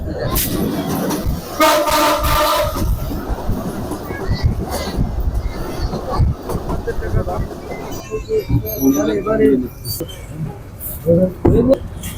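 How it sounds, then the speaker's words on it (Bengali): A train rumbles and clatters steadily along the rails on a foggy winter night near Tangail, Bangladesh, with a brief tonal squeal or horn early on and scattered voices mixed in. "শীতের রাত কুয়াশা ভেদ করে ট্রেন এগিয়ে যাচ্ছে সামনের দিকে"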